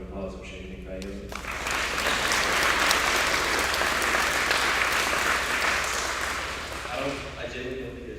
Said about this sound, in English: Just a quick round of applause for Sheikh Keynote.